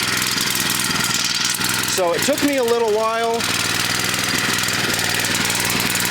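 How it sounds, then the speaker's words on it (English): A generator engine runs on wood gas from a homemade wood gasifier, making a steady, loud mechanical drone throughout, with someone talking briefly over it partway through. "It's running my generator"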